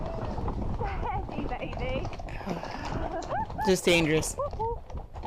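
Hooves of a horse ridden with a tight bit break into a canter, giving a steady rhythmic clip-clop under continuous talking, with a few sharp vocal cries near the end.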